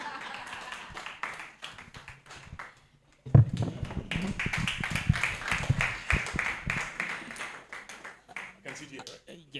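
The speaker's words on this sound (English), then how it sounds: "Another round of applause" Audience applause at a talk on parenting across borders, a burst of many hands clapping that starts suddenly and continues steadily, fairly close, with a voice speaking over it.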